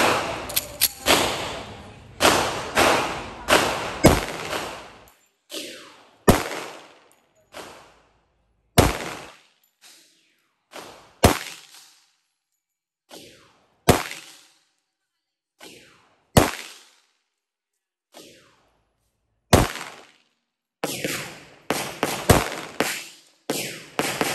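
Series of sharp, loud gunshots from an Armscor/RIA 1911 GI .45 ACP pistol firing full metal jacket rounds at a target about 5 to 7 meters away, a rapid burst at first, then spaced single shots and another quick string.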